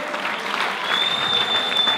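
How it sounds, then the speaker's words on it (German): A crowd at a dance battle applauds DJs with dense, continuous clapping that holds steady and loud throughout, with faint cheering mixed in. "Machen wir bitte einen dicken, dicken, riesen Applaus für Street Live Sound System."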